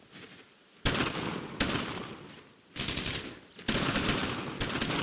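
Sustained gunfire in the WWII shooter Brothers In Arms: Road To Hill 30, dense overlapping rifle and machine-gun bursts that start abruptly and roar loudly almost continuously, with brief lulls between heavy volleys.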